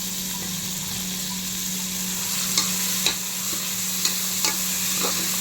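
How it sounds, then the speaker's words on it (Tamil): Prawns fry in oil with onion and tomato for a pressure-cooker prawn biryani: a loud, steady sizzle with a low hum beneath and a few sharp stirring clicks near the end. "அது அப்படியே அந்த எண்ணெயிலேயே இறாலெல்லாம் நல்லா சுருண்டு வரணும்."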